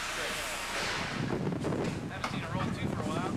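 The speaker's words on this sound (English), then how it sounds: "And you hear that wind whipping in the background." Wind buffeting the microphone outdoors during a televised team bowling match, a continuous rough low rumble with gusty swells, close and fairly loud, with no clear talk over it.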